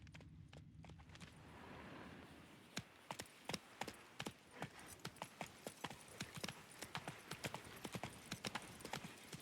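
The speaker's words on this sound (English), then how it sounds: "Even a horse drops if you ride it with a constant gallop." A horse gallops in a video game, its hooves drumming in a quick, regular clip-clop that builds after a quieter start and keeps a steady rhythm. It stays close and fairly faint, with no speech.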